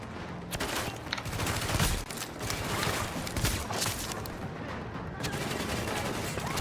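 Dense, continuous gunfire from a tactical video game as snipers are taken out, bursts of rapid shots layered with booms and clattering mechanisms, loud and close throughout with no talking.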